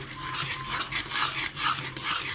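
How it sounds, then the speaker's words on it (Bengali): A grated coconut and sugar mixture for coconut naru, with Amul milk, is rubbed and stirred against a pan over medium-low heat, making repeated close, rasping scrapes in a steady back-and-forth rhythm. "এরকম ঘষে ঘষে যত ঘষে ঘষে সন্দেশটা পাকানো হবে তত খেতে টেস্টি হবে"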